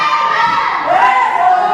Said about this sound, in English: And this crowd really are split here.